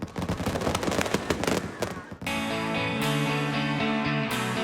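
Fireworks over the Magic Kingdom at Walt Disney World crackle and pop in rapid, loud bursts for about two seconds before sustained music takes over.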